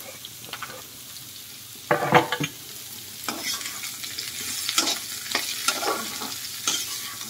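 Zucchini is stir-fried with curry leaves and slit green chillies in a hot pan. A steady sizzle runs under repeated scraping bursts as the vegetables are tossed and stirred.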